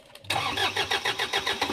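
A Kia Bongo 3 with a no-start fault cranks on its original key and catches, the starter whirring in a rapid pulsing rhythm after a brief quiet start, loud and close.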